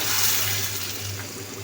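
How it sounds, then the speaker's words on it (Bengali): Fried garlic and onion are poured into cooking dal, giving a brief, close hissing sizzle of hot oil meeting liquid. "এখন ডালের মধ্যে ঢেলে দিব।"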